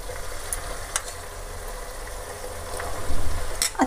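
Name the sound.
spice masala frying in oil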